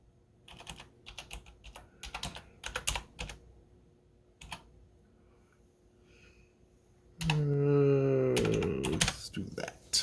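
A battle log file name is typed on a computer keyboard in quick bursts of close clicking keystrokes, followed by a louder stretch where someone talks.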